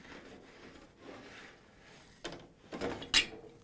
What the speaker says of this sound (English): And now we can install the lint filter back.